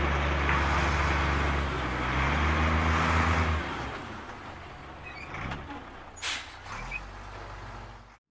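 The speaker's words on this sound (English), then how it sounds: "Dump truck." Dump truck engine rumbling steadily and close, with a low drone that shifts and then settles, and a short sharp hiss of air brakes near the end, with no talk.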